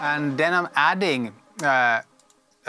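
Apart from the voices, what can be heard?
None of the usual background noises is heard.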